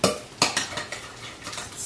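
A utensil clinks and scrapes against a bowl as organic eggs are stirred into a cauliflower pizza crust mixture, a series of sharp knocks with a brief pause midway, close and clear with no talking.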